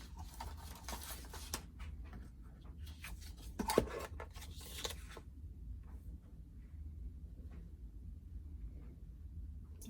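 Scissors cutting a sheet of paper in half for a paper craft, heard as a quick run of crisp snips and rustles over about five seconds, faint and close, after which only quiet room hiss remains.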